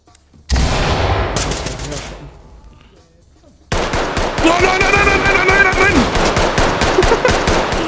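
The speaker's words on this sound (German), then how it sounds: "Warte, er schießt durch die Wand!" Loud, close automatic gunfire in the tactical shooter game Ready or Not, with rounds fired through a wall: a rapid burst, a short lull, then a second sustained volley.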